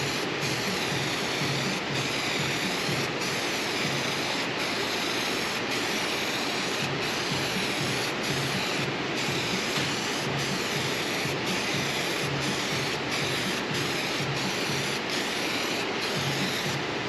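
A spray gun applies clear coating to a car headlight, a loud, continuous, even hiss broken by regular short pauses between passes, with no voices.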